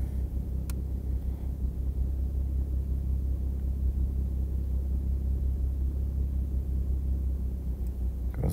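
BMW B58 engine idling off throttle on a cool day, a steady deep low rumble with no revving, continuous and fairly close throughout.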